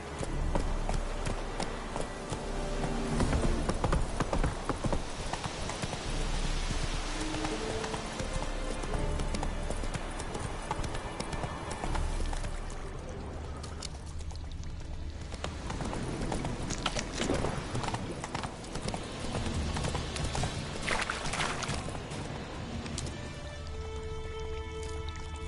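Steady hoofbeats of a galloping horse in The Witcher 3 run continuously under game music and ambient sound, with occasional rider sounds mixed in.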